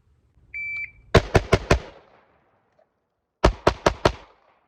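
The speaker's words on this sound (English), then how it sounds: "the time that I got that click, no bang until I actually transferred over to my pistol and began shooting" A shot-timer beep, then four quick rifle shots, a pause, and four more pistol shots during a rifle-to-pistol transition drill, all loud and sharp with no talking.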